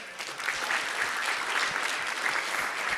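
An audience claps for a participant, dense steady applause that fills the whole stretch at moderate loudness, close and continuous with no talking over it.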